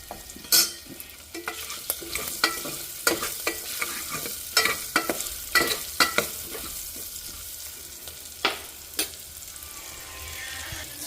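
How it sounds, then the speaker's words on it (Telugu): Onions fry in a pan of hot oil with a continuous sizzle, while a spatula stirs and scrapes in repeated sharp strokes throughout, close and clear, with no voices. "ఒక నిమిషం ఇవి వేగాలి"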